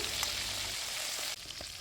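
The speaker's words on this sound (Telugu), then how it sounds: "నేనైతే ఇక్కడ త్వరగా అయిపోతుందని డీప్ ఫ్రై అయితే చేస్తున్నాను" Fish pieces deep frying in hot oil give off a steady, faint crackling sizzle with a small shift partway through, no voices over it.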